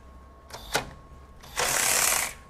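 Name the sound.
DeWalt DCF510 cordless ratchet running on trigger pulls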